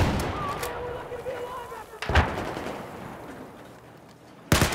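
A few sharp gunshot bursts crack out in Battlefield 4, spaced apart over a low, rumbling background.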